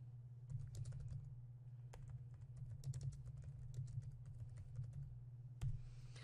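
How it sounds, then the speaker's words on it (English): Someone types a chat message on a computer keyboard: a quiet, steady run of rapid, irregular key clicks over a low background hum, with no voices. "Once I finish typing it in, I can press Enter on my keyboard."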